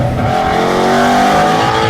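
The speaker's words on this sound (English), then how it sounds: "They respond quickly to blips of the throttle, so I can just blip the throttle and it goes." Loud, close engine sound from a 2016 Ford Mustang Shelby GT350R with its flat-plane V8, a brief steady rev held through the short moment without any talk.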